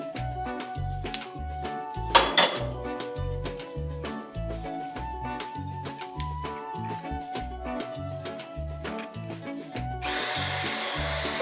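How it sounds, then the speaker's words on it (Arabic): Hand blender whirring through chocolate and biscuits in a bowl, a close buzzing motor in short repeated bursts with brief pauses and rattling bumps, ending in a sustained louder run. "ونبلش نضربهم بالخلاط."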